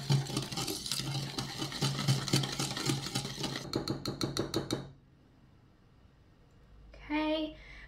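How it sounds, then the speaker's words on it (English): Pumpkin pie filling whisked together with a cup of cold milk: quick, rhythmic clicking strokes in a bowl for about five seconds, then quiet, and a brief voice near the end. "I'm just gonna whisk that together."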